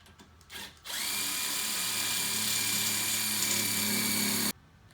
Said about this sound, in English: Then I'm going to use these self-tapping screws to install into the post.